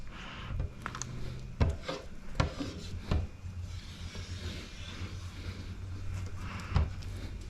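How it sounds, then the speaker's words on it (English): A squeegee presses window tint film onto a Corvette door, giving quiet rubbing and scraping strokes with a few sharp taps and squeaks spaced irregularly, close up and fairly faint. "squeegee it, but you don't want to use enough pressure to where it's shifting your film all over the place."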